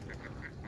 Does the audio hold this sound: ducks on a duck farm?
yes